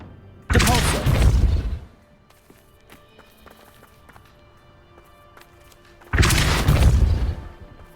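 Depulso spell in the video game Hogwarts Legacy: two loud, close whooshing blasts, each about a second long, separated by a quiet gap with faint background ambience.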